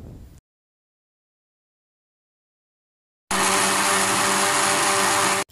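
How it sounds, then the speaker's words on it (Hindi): A blender whirs loudly and steadily as it churns a bread-piece mixture, starting abruptly after a brief noise and a stretch of silence, then running for about two seconds before cutting off, with no talk. "इसको मैंने ब्लेंडर में 6 से 8 सेकेंड्स के लिए इसको मैंने चला लिया था"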